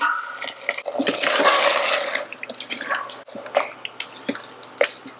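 Water poured into a thick paneer butter masala curry sauce in an Instant Pot, a close splashing pour swelling over the first two seconds, then softer intermittent drips and stirring clinks.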